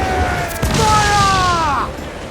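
Ship cannons fire in Assassin's Creed IV: Black Flag, a sharp booming blast followed by a rolling rumble and ringing whistle-like tones that fade away, near and loud.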